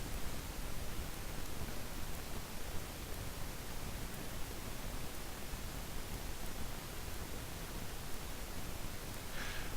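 Steady hiss of sprinklers spraying water in the Space Quest II adventure game, a faint, even wash of noise that holds unchanged for the whole stretch with no voices.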